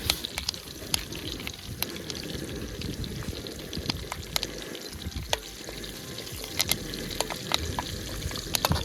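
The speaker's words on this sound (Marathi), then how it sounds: "आता मस्तपैकी तेल तापलेलं आहे. आणि आता आपण टाकतो काय कढीपत्ता टाकतोय" Curry leaves crackle and sizzle in hot oil, sharp pops and spits scattered over a steady frying hiss, close by with no talking, during outdoor cooking beside a dam.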